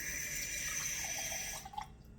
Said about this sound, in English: You only add like this much water, pour it in.